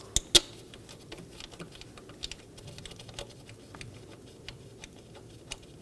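A ratchet with an 8mm socket snugs a bolt down on the valve cover of a 2.5L four-cylinder Ford Transit Connect, giving quiet, close, irregular clicks with two sharper ticks at the start.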